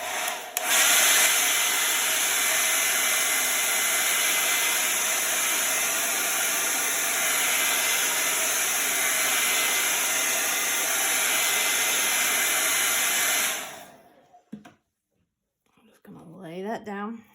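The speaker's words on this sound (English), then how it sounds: "So we're gonna blow dry again." A hair dryer blows steadily on a chalk paste craft project, a loud continuous close-up whir that runs for about thirteen seconds and then cuts off, followed by brief quiet and a voice.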